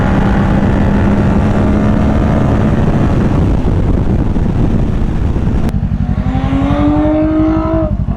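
Toyota Camry TRD with an aftermarket exhaust driving by, heard from a moving motorcycle: a loud, droning engine note that turns into a rising, revving pass partway through, over steady rumble and wind noise.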